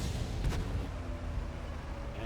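A Caernarvon tank fires its cannon while moving in World of Tanks, one booming shot that rises over a constant engine rumble, close and loud.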